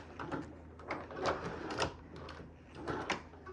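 A sewing machine stitches a sneaker, its needle clattering in short uneven bursts at close range, with quiet pauses between runs and no talk.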